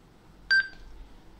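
A WS-858 wireless Bluetooth microphone's mic button gives a short, clear electronic beep, two quick tones in succession against near silence.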